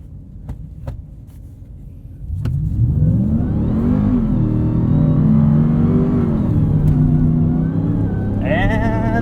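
A Ram 1500 TRX pickup truck races on open sand dunes, its engine surging from a low rumble into a loud, sustained roar with shifting pitch as it accelerates hard.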